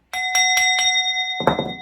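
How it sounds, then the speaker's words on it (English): A small bell struck four times in a steady, quick rhythm, each ring clear and sustained, followed by a louder, rougher strike at the end. "I'm going to be hitting the bell a lot"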